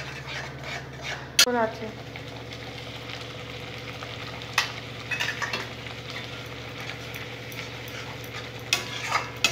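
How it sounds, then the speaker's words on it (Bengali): Egg curry masala made with grated coconut and cashew-poppy seed paste is stir-fried in a pan, giving a steady low sizzle broken by occasional spatula scrapes and clinks, with brief speech in the background. "এখন এটা দিয়েও খুব সুন্দর করে কষে নেব।"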